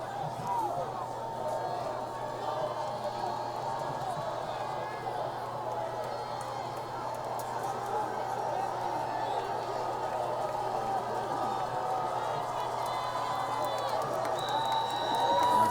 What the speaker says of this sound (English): Lincoln cheering section revved up